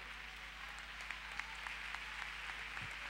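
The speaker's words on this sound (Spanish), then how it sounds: "Fuerte el aplauso para nuestro Dios." Faint, steady applause from a church congregation during a women's service at a South American conference, a dense wash of distant clapping lasting throughout with no talk over it.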